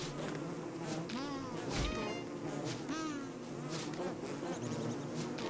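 Angry bees in Don't Starve buzz in a thick, agitated swarm, with rising and falling whines from individual insects darting close over a constant drone.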